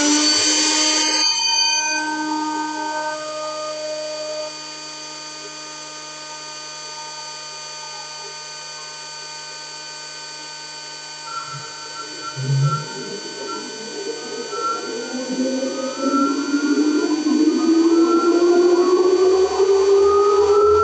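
Innosilicon A10 ASIC Ethereum miner starting up, its cooling fans spinning up loud and close into a rising whine that climbs steadily toward the end, after a brief noisy burst at power-on.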